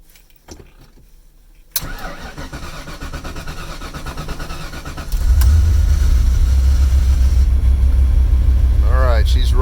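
A 1982 Ford Capri RS engine cranks and fires, settling into a rough running idle, then swells into a louder, deeper rumble close by, with a voice and some clatter around it.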